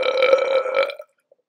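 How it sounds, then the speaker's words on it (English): A loud, close burp, one sustained tonal belch about a second long that cuts off abruptly into silence. "Those lip curl burps are the best."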